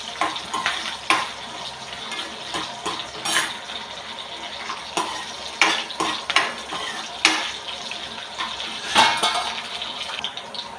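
Vegetables sauté with turmeric and salt for a sambar. A spoon scrapes and clatters against the pot in repeated bursts over a soft sizzle, all close and without speech.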